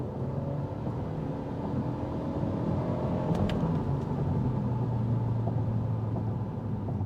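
A 2026 Toyota Camry hybrid with an eCVT, driven in its sport mode with gears knocked down: a steady engine drone and road rumble from inside the cabin, holding at a moderate level the whole time.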